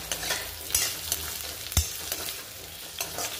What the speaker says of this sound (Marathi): ह्या भाज्या आधी ऍड करायच्या जेणेकरून व्यवस्थित परतलं गेलं पाहिजे